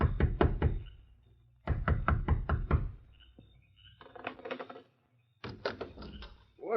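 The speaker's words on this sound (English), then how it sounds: "the door of the sheriff's home echoed with a loud knock" Someone pounds on the door of a sheriff's house late at night, in a radio western drama: three loud bursts of rapid, heavy knocks, separated by short pauses and quieter shuffling thumps.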